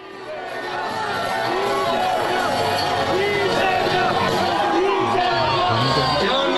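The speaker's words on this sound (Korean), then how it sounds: "판결문 낭독을 읽고서 환호하고 있는 모습인데요" A large outdoor crowd of Democratic Party supporters in South Korea cheers and shouts at a court ruling, swelling in at the start and holding loud and dense throughout, with whoops and chanting voices mixed in.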